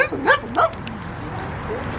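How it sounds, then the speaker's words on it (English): A dog gives two sharp, high barks close by, then falls quiet against low background noise. "Our neighbor's dog has beef with Patrick right now."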